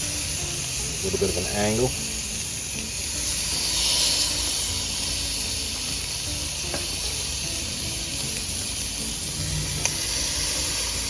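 Flat iron steaks laid on a hot gas grill: a steady, close sizzle and hiss runs throughout, with a few small pops and metal taps as someone talks briefly over it.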